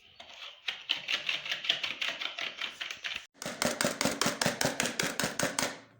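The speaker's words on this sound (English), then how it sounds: "You're going to make sure you whisk this together until it's fluffy, until it's white." Burger mixture with peanut being whisked vigorously by hand in a bowl, a fast steady run of rhythmic tapping strokes that pauses briefly and resumes more sharply, close and alone.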